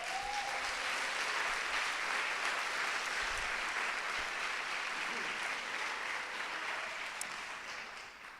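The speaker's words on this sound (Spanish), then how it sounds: "¡Un aplauso!" Audience applause at a forum gathering, steady dense clapping from a room full of people, sustained for several seconds and tapering slightly at the end.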